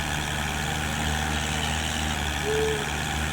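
A tractor engine runs at a steady idle, a loud continuous low drone and rumble with a brief tonal whine partway through, and no talking.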